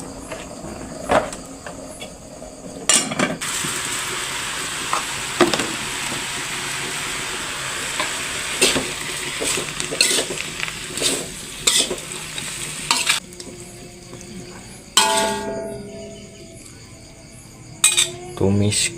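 Water spinach (kangkung) stir-fried in a little oil in a pan, with steady sizzling broken by repeated scraping and clanking of a utensil against the pan, close by.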